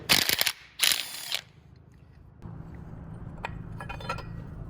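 A ratchet works loose a 14mm bolt on the power steering support bracket of a Toyota 22RE engine, giving two bursts of rapid mechanical clicking up close, then quieter intermittent clicks and metallic clinks over a low background hum.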